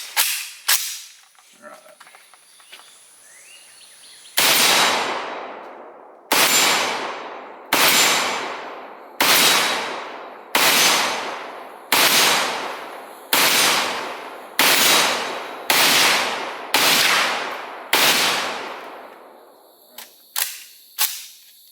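An AK-pattern rifle fed from an AC Unity 40-round magazine fires loud, cracking single shots. After a few early reports, about a dozen evenly spaced shots follow, each trailing into a long echo, then a couple of quieter clicks at the end.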